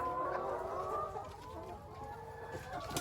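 Chickens on a farm clucking and murmuring close by in a continuous, uneven stream of short calls, with a brief higher squawk near the end; no talking.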